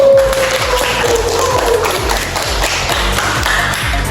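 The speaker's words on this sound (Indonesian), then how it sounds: "kita berikan aplaus untuk kelompok 1" A classroom full of students applauding a group during a maths lesson, a dense clatter of many hands clapping steadily with scattered taps and shuffling, continuing at a fairly even level throughout.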